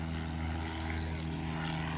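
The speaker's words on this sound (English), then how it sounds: "another plane moving through the sky there" A propeller plane flying overhead at a fly-in and classic car show, a steady droning engine hum with even buzzing tones, fairly faint and continuous.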